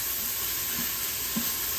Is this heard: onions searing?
yes